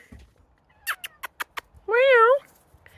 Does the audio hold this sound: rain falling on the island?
no